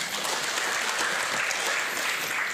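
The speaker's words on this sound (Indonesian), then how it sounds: "Tepuk tangan bagi Allah kita." An Indonesian church congregation at a Sunday worship service breaks into strong, continuous applause, a dense, even roar of many hands clapping at once, loud and unbroken.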